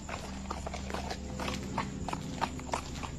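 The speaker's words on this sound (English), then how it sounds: "Something that sounds eerily like horse hooves striking the pavement." Horse hooves clip-clop on a paved street in a steady walking rhythm, the strikes fairly close and distinct over a constant low hum and background noise.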